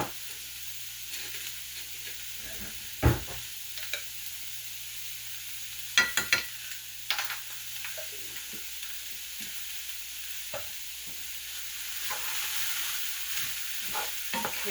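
Cabbage and garlic cooking in a pan, with a steady low sizzle, stirring scrapes and several sharp clinks of a utensil against the pan, mostly alone and up close.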